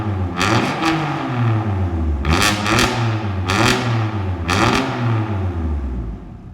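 A BMW S55 engine revs loudly in four sharp bursts, each climbing and falling in pitch with a harsh, raspy edge, then settles back toward idle between blips.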